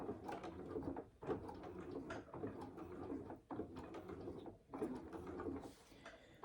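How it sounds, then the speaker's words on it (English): A sewing machine backstitches at the side seam of a fabric saddle bag, running in soft bursts of rapid mechanical chatter broken by short pauses, quiet and close. "I'm going to back stitch at that side seam before the final hurdle."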